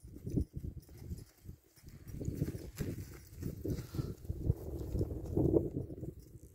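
A tame criollo horse walks along, its hooves clip-clopping in a loose, uneven rhythm close by, with scuffs and faint background noise between steps.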